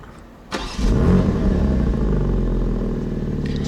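A 2021 BMW M4 Competition's 510 hp engine, valve closed, cranks into life with a sharp start-up burst, then settles into a steady, deep, fairly loud idle that continues without speech.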